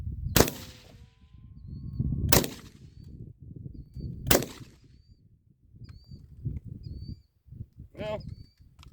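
An SKS rifle fires three sharp, loud shots about two seconds apart outdoors, each followed by a brief ringing tail, then a quieter clank. Someone talks between the shots.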